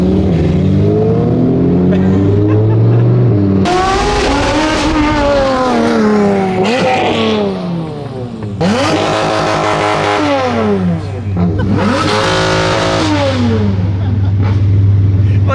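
Two Porsche GT3 RS cars rev their exhausts together, loud and close: a high-pitched flat-six wail that climbs and falls through repeated sharp rises in revs, with deeper idle rumble between them.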